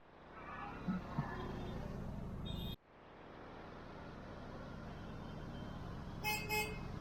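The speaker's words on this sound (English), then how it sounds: "it is crazy traffic here. Everywhere, all roads are like full of cars." Heavy street traffic in Jaipur rumbles steadily, with engines droning and a few short car horn toots, one near the start and a double honk near the end.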